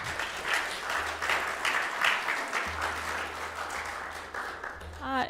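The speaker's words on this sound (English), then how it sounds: "let's give the mentors a round of applause too" Audience applause for project mentors at an adult education gathering, a steady room-filling clap lasting several seconds, with a voice briefly starting to speak near the end.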